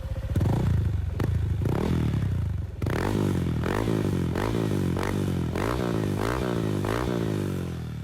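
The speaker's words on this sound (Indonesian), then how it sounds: "lumayan sih suaranya dengan gerungan motor yang seperti itu" A loud modified 200 cc Honda Vario scooter engine revs repeatedly in rapid bursts, each rising and falling with a raspy, crackling exhaust note.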